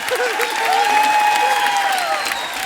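Studio audience at a live comedy show clapping in steady, dense applause throughout, with faint crowd murmur and a brief tone near the middle.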